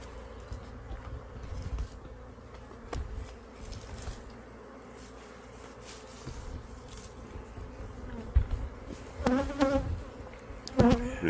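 Honey bee colony buzzing around an open hive frame of drawn comb and pollen, a soft continuous droning hum with individual bees flying close past now and then.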